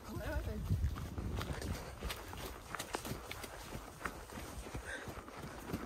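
Horse trotting on an outdoor ride: a soft, irregular patter of hoofbeats on the ground with rustling and gear noise throughout, heard from close by, and a voice briefly speaking near the start.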